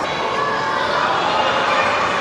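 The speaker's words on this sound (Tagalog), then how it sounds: "naririnig na yung mga sigawan ng bata" Children shouting at the entrance of an amusement park in Bangkok, a steady wash of distant crowd noise and high voices with no single shout standing out.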